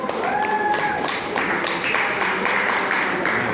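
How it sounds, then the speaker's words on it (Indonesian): Classroom applause for students who have just presented, a dense steady patter of many hands clapping together at close range for a few seconds, with a faint voice underneath. "Kita beri tepuk tangan untuk yang sudah presentasi"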